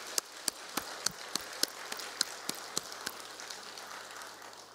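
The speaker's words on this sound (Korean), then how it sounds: "감사와 존귀와 영광의 박수부터 한번 합시다" A church congregation claps together during a Sunday worship service. The applause is fairly faint and comes as a scattered run of sharp claps over a steady room hum.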